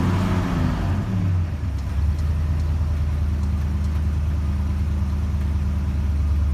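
Car engine running close by at its first start of the season, with a low uneven rumble, its pitch dipping and wavering as though it can barely hold idle; no one speaks.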